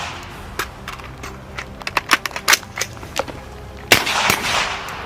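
Marines firing on a military range at Camp Lejeune, with a string of sharp gunshots, some single and some in quick clusters, followed by a louder close burst near the end, over steady outdoor background noise.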